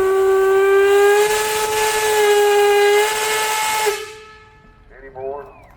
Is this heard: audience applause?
no